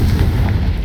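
A Confringo explosive spell goes off in Hogwarts Legacy, a loud, heavy, booming blast that fills the whole brief moment with dense low rumble, no voices over it.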